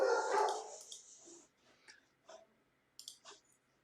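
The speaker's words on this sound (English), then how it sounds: "sorry for the dog barking." A dog barks loudly at first, followed by scattered softer yips and whimpers from dogs somewhat farther off.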